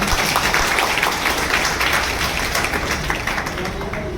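An audience at a community talent award ceremony in Bhopal applauds with dense, sustained clapping that fades slightly toward the end.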